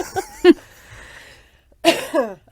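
A person coughs close into a microphone, a couple of short harsh bursts at the start and a louder pair a second later, with quiet in between.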